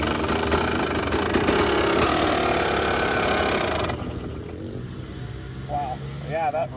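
A powerful racing engine runs loud and steady for several seconds, then drops to a lower, quieter rumble, with voices talking over it.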